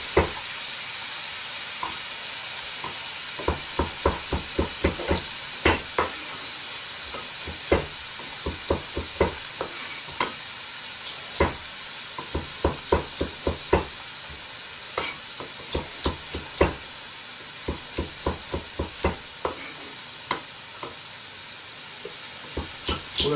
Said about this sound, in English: We're going to turn our heat up on the chicken. We want to hear that sizzle.